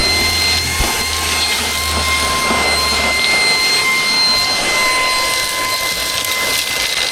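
A car vacuum cleaner fitted with a crevice tool runs at full power, a loud steady whine and roar with scattered rattling as stones are sucked up.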